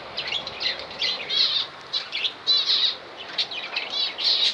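Finch being released into an aviary: repeated bursts of wing flapping mixed with high, thin chirps, fairly close and clear, coming in irregular flurries against a quiet background.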